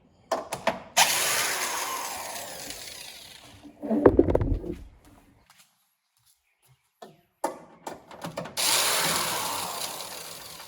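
A tool loosens the two 10mm bolts holding the HEPA filter in a Tesla Model Y, with bursts of ratcheting and mechanical whirring separated by quiet pauses, plus a low rumbling clunk midway.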